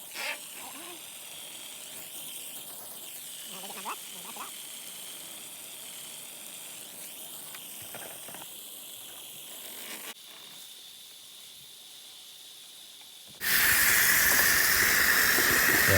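Tardigrade hose spraying water onto the roof of a rusty van, a steady broadband hiss that drops briefly, then bursts much louder and harsher near the end as the spray hits closer.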